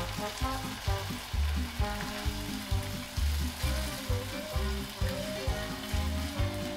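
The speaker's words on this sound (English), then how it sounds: "Then gradually add the stock, ladleful at a time and stirring it occasionally" Risotto simmering in stock while being stirred, a steady sizzle and bubbling with rhythmic low scraping strokes about once a second, close and moderately loud, no voices.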